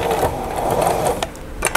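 A sewing machine stitching bias binding along the bottom edge of a dish towel, a close, loud, rapid whir of the needle that stops abruptly with a few clicks at the end.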